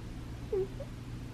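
A sleeping cat gives a single soft, brief whimpering squeak while dreaming, over a low background hum, quiet and close, with a fainter second murmur just after.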